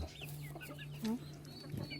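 Chickens clucking and squabbling with a turkey on a farm in Fresno, California, a close, busy mix of clucks and short squawks over a steady low hum.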